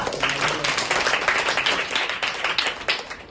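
Clapping from a small group at a Good Friday night prayer quiz game, a steady dense patter of hands lasting a few seconds, with voices speaking over it.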